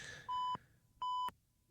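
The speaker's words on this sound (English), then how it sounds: "Just for annoying beeping noise." Two short, clear electronic beeps from a Pixel phone button, each a steady tone of about a quarter second separated by a brief gap, close and fairly quiet over faint background noise.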